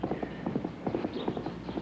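Racehorse hooves clip-clop in a quick, steady rhythm on a racetrack, fairly close and moderately loud, with no talking over them.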